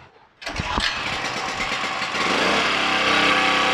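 A petrol-powered vacuum engine with its choke set is started nearby, going from near silence to a sputter that quickly catches into loud, steady, high-revving running.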